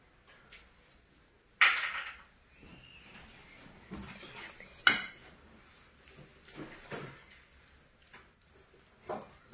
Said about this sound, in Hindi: ये 1 टेबलस्पून फ्रेश क्रीम है, इसको इसके अंदर मिक्स कर देंगे